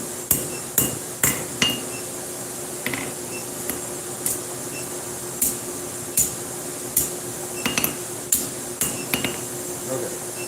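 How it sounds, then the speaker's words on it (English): Hammer blows ring out on metal being straightened at a forge, about a dozen sharp, bright strikes in an uneven rhythm, close and loud over a steady background hum, with a voice speaking briefly in between. "let me see if I can straighten this out with a hammer"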